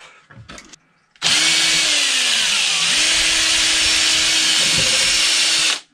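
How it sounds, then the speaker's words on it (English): A power drill whirs up loudly and runs steadily for several seconds drilling a pilot hole in wood, its pitch dipping briefly as it bites, then stops abruptly. "I'm gonna take my drill and I'm just gonna drill a little pilot hole"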